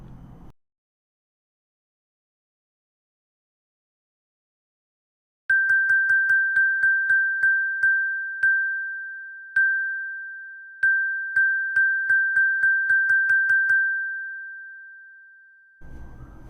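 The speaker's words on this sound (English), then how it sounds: "every time the center of the ball crosses the line, you're going to hear a ding sound" Clear bell-like dings ring out after a few seconds of silence, about a dozen of them coming in quick bursts with uneven gaps, each decaying cleanly, as a ball crosses equally spaced lines during projectile motion.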